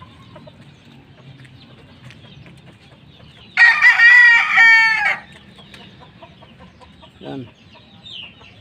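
A fighting rooster crows loudly and nearby in one long burst, with faint clucks afterward over a quiet outdoor background; someone says a single short word.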